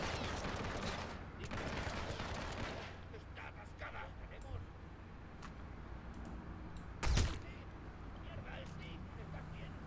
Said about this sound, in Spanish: Ya empezaron los tiros, se puso complicada la cosa.